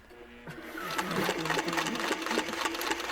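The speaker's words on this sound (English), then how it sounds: "So you're basically stitching over." A sewing machine runs steadily at close range, stitching along the edge of a quilting template to create echo effects, with a rapid continuous mechanical whir throughout.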